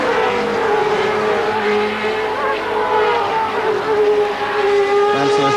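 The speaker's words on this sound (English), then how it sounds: "In car with Nigel Mansell" Nigel Mansell's Formula One car during qualifying for the 1990 Hungarian Grand Prix, heard from an in-car camera: a loud, continuous high-revving engine note rising and falling through gear changes, with a commentator talking over it.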